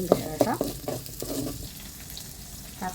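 Chopped shallots sauté in a pan for a chicken curry, with a soft sizzle under a few quick stirring scrapes near the start and a faint voice in the background.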